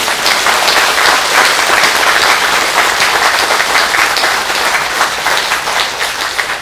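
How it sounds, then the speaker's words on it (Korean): A large audience applauds loudly and steadily at a Buddhist New Year all-night meditation dharma talk, dense clapping filling the whole stretch before tapering slightly at the end. "우리 박수 한번 부탁드립니다."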